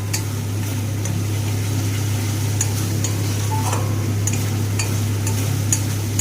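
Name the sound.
frying spice paste (masala) with poppy seed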